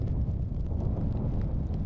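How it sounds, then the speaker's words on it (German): Strong wind blows steadily across an open snowy field beside an overgrown streambed, a dense low rumble of gusts buffeting the microphone throughout with no pauses. "Es hat wieder begonnen zu schneien und der Wind hat stark aufgefrischt."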